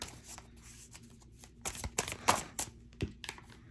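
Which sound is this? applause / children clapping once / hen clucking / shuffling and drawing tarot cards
shuffling and drawing tarot cards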